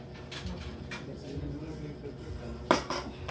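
Plates and dishes clink and knock a few times amid a home kitchen bustle, with one sharper clatter near the end, while people talk nearby.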